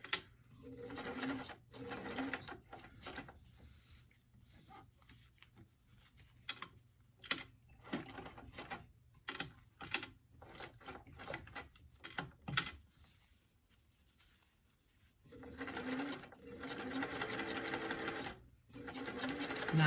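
A sewing machine stitches a formal doll dress near a zipper opening, running in short irregular bursts of rapid mechanical clatter separated by pauses, then a longer steady run near the end, close and fairly quiet.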